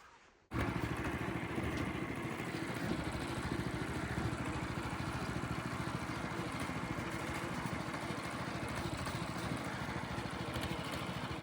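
A small tractor's engine runs steadily and close by in a forest, a continuous even idle with a fine rapid pulse that holds for the whole stretch, with no talking over it.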